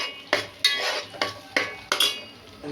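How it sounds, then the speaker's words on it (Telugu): Onion and tomato paste frying in hot oil while being stirred, with a spoon scraping the pan in about five distinct strokes over a soft, steady sizzle close by. "నెక్స్ట్ ఆనియన్ టమాటా పేస్ట్, ఈ ఆయిల్లో బాగా ఫ్రై అవ్వాలి."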